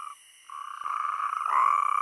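Natterjack toads gathered to mate in seasonal ponds on an Iberian night give a loud, rolling, rattling croak that swells and overlaps as several join in.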